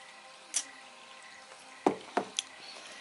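A person drinking water close to the microphone makes a few soft, wet sips and gulping swallows in a short uneven cluster over quiet room tone, with no talking.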